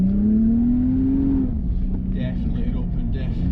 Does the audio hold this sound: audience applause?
no